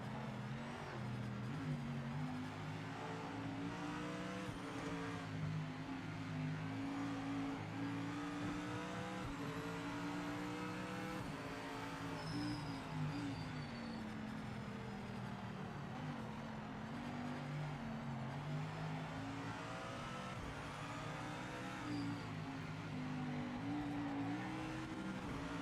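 Mercedes-AMG race car engine in Project MOTOR Racing, droning steadily at high revs with harmonic bands rising and falling through gear changes and downshifts, loud and continuous with other cars nearby on track.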